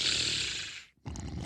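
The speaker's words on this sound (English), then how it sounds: "he was soon snoring right away." A heavy, rasping snore from a sleeping character in a fairy tale, loud and close: one long drawn-out breath, a brief pause, then the next noisy snore beginning.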